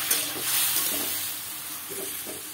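A spatula stirs chili powder and spices sizzling in a wok for a tamarind potato dish, the scraping strokes repeating in a steady rhythm over a constant close hiss of frying, with no talking.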